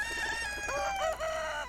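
A chicken crows in the video game Golden Treasure: The Great Green, a clear rising cock-a-doodle call over a soft clucking lead-in, close and alone.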